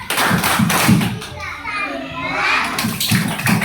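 A class of young primary-school children doing a rhythmic 'tepuk hebat' clapping chant in a classroom, bursts of hand claps and thumps in a steady beat with children's voices chanting along throughout.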